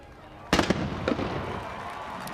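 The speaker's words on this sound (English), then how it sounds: "Ready for those cannons to go off?" Stadium cannons fire after a score at a college football game between ULL and Eastern Michigan, a sharp loud boom followed by a couple of quick echoing pops, then a lingering crowd roar.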